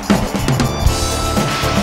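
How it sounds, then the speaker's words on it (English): A ladybug enemy in the Croc: Legend of the Gobbos video game gives a deep, gruff voiced cry over busy game music and effects, brief and loud. "Very masculine voice for a ladybug."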